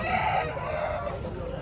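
A rooster crows at a busy poultry market, a loud close call over the clucking of other fowl and a low background murmur.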